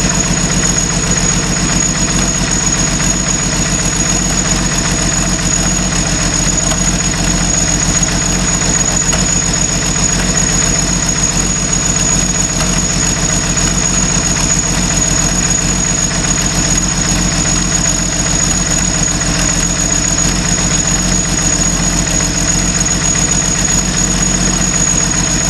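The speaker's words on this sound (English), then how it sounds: "The engine is hitting on all 6 cylinders." A six-cylinder engine in a 1974 Jeep CJ5 idles steadily, a loud, constant low rumble with even vibration and no change in pace across the whole stretch, with no voices over it.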